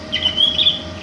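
Bird singing in the retro Russian-Czech shooter video game Kvark, giving a short run of clear, bright chirping notes over a quiet game hum.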